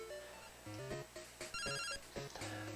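Pokemon Crystal's in-game phone ring plays as a faint, repeating chiptune jingle of short beeping notes, alone without talk.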